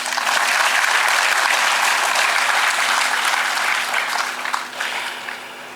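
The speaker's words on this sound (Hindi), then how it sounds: "ताली नहीं मारेंगे आप?" Sustained audience applause at a TB-Free India felicitation ceremony at Raj Bhavan, Dehradun, with dense, even clapping that thins out and fades toward the end.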